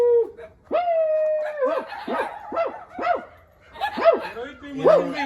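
A dog yelps, whines and howls in a run of rising and falling cries at a wedding procession, loud and close, with brief pauses between calls and no talk over it.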